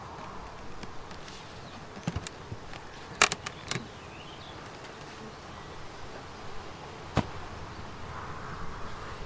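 Bees buzz around an open hive with an empty feeder, a soft, steady hum close by. Several individual bees zip past the listener in short, sharper bursts.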